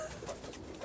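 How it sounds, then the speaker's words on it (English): A pigeon coos softly in a brief burst, a low, muffled murmuring call heard faintly against a quiet background. "Those dirty birds, they're just disgusting."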